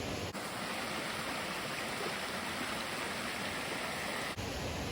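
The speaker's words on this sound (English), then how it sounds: "The creek we camped next to had become a small river." A swollen creek, turned into a small river by a torrential downpour on the Appalachian Trail in southern Maine, rushes with a dense, steady roar that fills the whole stretch at close range.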